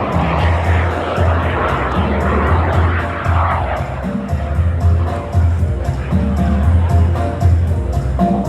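A jet glider fitted with a TJ-100 jet engine flies at the Aerospace Valley airshow, its engine a steady distant roar beneath crowd noise and an announcer's voice.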